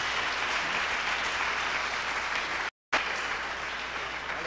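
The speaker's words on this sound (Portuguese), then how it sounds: "Então, mais uma vez, salva de palmas para o Edilson." Audience applause at a typography talk in Brasília, a steady dense wash of clapping from a crowd that cuts out briefly near the end before resuming.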